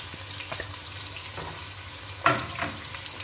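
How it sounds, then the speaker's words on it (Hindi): Finely sliced medium onions fry in hot oil, giving a soft, steady sizzle with faint stirring clinks and a brief louder scrape near the end. "प्याज को मैं फ्राई करूंगी इतनी देर के लाइट गोल्डन ब्राउन हो जाएगी"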